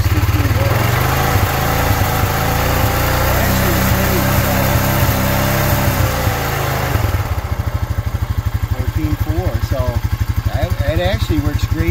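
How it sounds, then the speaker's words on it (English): Honda Rancher ATV with a dead battery: the engine runs loud and close with a brief throttle rise, then settles into a steady, pulsing idle while a voice speaks. "Give that a little bit of throttle while you're looking"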